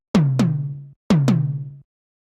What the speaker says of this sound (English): So we can always play kind of this pitched tom roll.